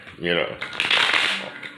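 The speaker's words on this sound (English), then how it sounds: "Right now I'm shuffling, my deck here" Quick riffling of a tarot card deck being shuffled close by, a brief papery flutter followed by softer slides and taps.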